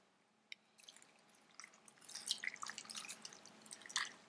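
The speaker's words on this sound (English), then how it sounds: "Now I'm adding in half a cup of tap water." Half a cup of tap water trickles and splashes into a pot holding pear and rock sugar, a soft, close pouring with drips, starting after a lone early tick and swelling briefly near the end.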